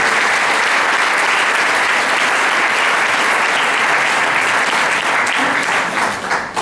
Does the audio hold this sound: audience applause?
yes